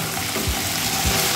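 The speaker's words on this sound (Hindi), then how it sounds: "दोनों चीजों को एक साथ ही हल्का फ्राई कर लेंगे।" Potato pieces and green beans sizzle together in hot oil in a pan, a steady close hiss with a couple of soft low bumps as the vegetables settle or are moved.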